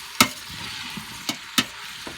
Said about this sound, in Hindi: और गार्लिक डालने के बाद में फिर वापस उसको थोड़ा सा चम्मच चला देते हैं